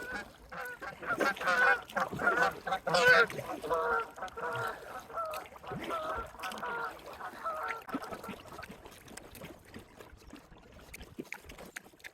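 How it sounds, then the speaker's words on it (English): Geese honk repeatedly in a noisy, overlapping cluster, loud at first and gradually thinning out, with some water or kayak noise in the background, near Wroxham, UK. "gonna get attacked by some geese"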